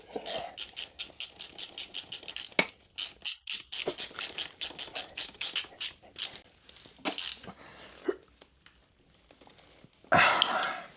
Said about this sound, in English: So I'm going to tighten them up as tight as I can now, and then I'll torque them later on.